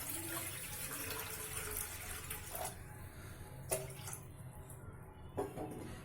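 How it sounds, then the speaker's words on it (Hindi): Water pours into a kitchen vessel while a dahi bara is being prepared, making a steady close splashing wash that carries throughout, with a few faint knocks near the end and no talk. "अब हम एक बर्तन में थोड़ा सा पानी डाल देंगे।"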